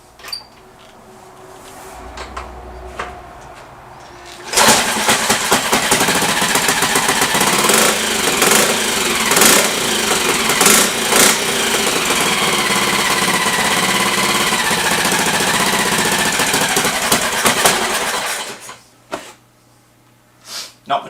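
A BSA B25 300cc motorcycle engine, partway through a conversion, catches after a starting attempt and runs loudly with a rough, rapid thumping beat for about thirteen seconds before cutting out to quiet.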